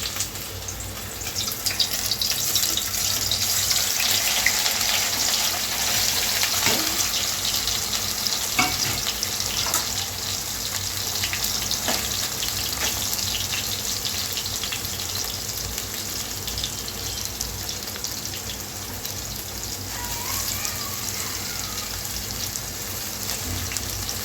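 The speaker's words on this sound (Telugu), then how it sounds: "ఇది ముందుగా ఇది ఫ్రై చేసుకోవాలండి ఆయిల్లోని" Soaked meal maker soya chunks fry in hot oil with a steady, continuous sizzle and crackle, close and fairly loud, with occasional stirring clinks and no talk.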